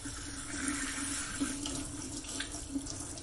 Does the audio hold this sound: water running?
yes